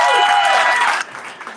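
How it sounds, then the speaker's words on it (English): Applause with some cheering from a crowd at a business network holiday party and annual meeting, loud at first, then cut off abruptly into a quieter room with scattered claps. "Let's give her a huge round of applause."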